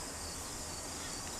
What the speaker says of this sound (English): now you can hear the crickets more